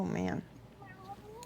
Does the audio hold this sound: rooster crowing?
no